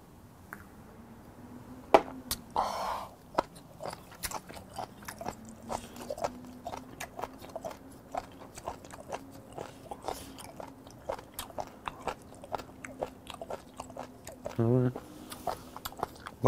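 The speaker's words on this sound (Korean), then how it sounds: "이 씹는 맛이랑 이게 너무 좋아가지고요" Raw spoon worm (gaebul) chewed up close during a Korean seafood meal, giving a steady run of wet, rubbery crunches and bites over about sixteen seconds, with a low steady hum underneath.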